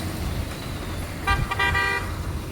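A state transport bus honks on the road to Sindkhed Raja, its horn sounding in a couple of short blasts over steady road and engine noise, fairly close.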